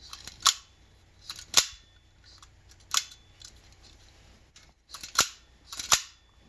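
A Citroen carburettor throttle snapped shut by hand, five or six sharp metallic clacks at uneven intervals, close and distinct over a quiet background.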